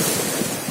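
Sea waves and coastal wind at Eretan beach in Indramayu, a steady rush of surf with wind buffeting the microphone, close and continuous through a short moment without talk.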